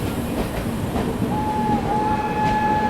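Heard from on board, a passenger train on a Bihar-to-Delhi journey overtakes the Mussoorie Express with a steady, loud rumble and rattle, and a thin tonal whine rises partway through.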